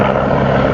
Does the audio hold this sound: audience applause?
no